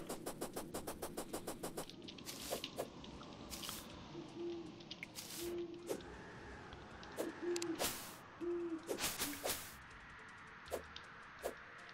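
A bird hooting in Terraria, a few short owl-like hoots spaced apart amid game footsteps, soft squishy impacts and clicking effects, fairly quiet and without talk.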